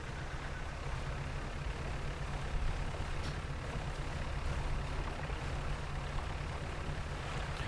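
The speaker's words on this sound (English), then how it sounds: "That was the sound of me engaging the haste engine." A ship's haste engine engages in a sea-sailing video game, giving a continuous low rumbling roar with a steady, dense texture that holds at moderate loudness throughout, with no talk.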